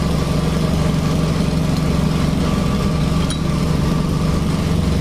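A Honda Scoopy scooter with a noisy, knocking CVT idles steadily at close range, a continuous buzzing drone with a rattly mechanical hum and no pauses.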